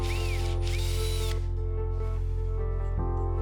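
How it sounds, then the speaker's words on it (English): Electric drill boring holes in the side cover of a homemade angle grinder sliding cutting jig, a steady close whirring hum with a slight pitch dip near the end, no voices. "Then, drill the mark."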